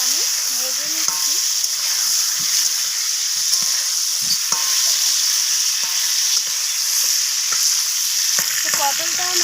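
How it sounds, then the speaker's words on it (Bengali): Pieces of pointed gourd frying in hot oil as they are stirred, giving a loud continuous sizzle with scraping spatula strokes scattered through it and louder scrapes near the end, with no speech. "পটলটাকে এইভাবে নাড়াচাড়া করে আমি ভেজে নিচ্ছি।"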